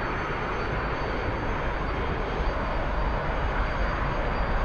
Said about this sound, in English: Okay, full throttle. 3, 2, 1, release.